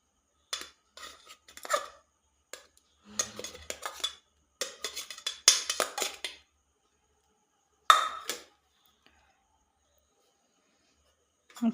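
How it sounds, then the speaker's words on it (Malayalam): A spoon scrapes and clinks against a dish while chopped mango pudding ingredients are stirred at home. Clusters of stirring clatter are separated by short pauses, close and fairly loud. "എല്ലാം ഇനി ഇളക്കിയെടുക്കാം."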